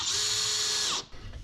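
A power drill runs steadily at high speed aboard a boat during windlass wiring work, loud and close, then winds down and stops abruptly near the end, leaving quiet background.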